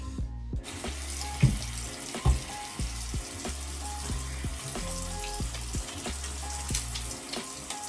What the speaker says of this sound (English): I'm going to show you how much it lathers up